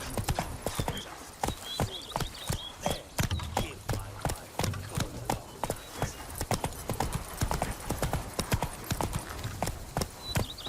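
Roach, Geralt's horse in The Witcher 3: Blood and Wine, gallops with a steady, close clip-clop of hooves that continues throughout at an even, driving rhythm.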